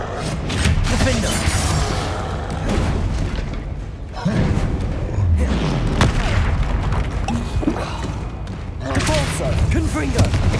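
Spell casting in Hogwarts Legacy: Repulsor, Confringo and Expelliarmus firing off in combat, heavy booms and thuds repeating in quick succession, with a player's voice talking over the blasts.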